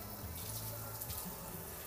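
Water pours and splashes onto a wax-coated car test surface (Meguiar's Ultimate Quik Wax), a soft continuous faucet-like rush with slight splatter, close and quiet, no talking.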